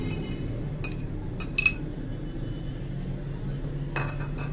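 A spoon stirs chopped garlic in oil in a frying pan, sounding as a few sparse, bright metallic clinks against the pan over a low, steady background hum.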